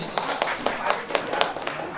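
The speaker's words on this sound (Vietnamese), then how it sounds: "hãy dành cho cô dâu và chú rể một tràng pháo tay" A handful of engagement party guests clapping for the couple in a quick, uneven rhythm, close by and moderately loud.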